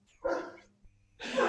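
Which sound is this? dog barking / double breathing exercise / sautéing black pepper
dog barking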